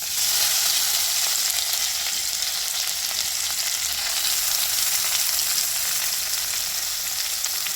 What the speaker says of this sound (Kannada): ಈಗ ಇದನ್ನು ಒಗ್ಗರಣೆ ಒಳಗೆ ಹಾಕ್ತೀನಿ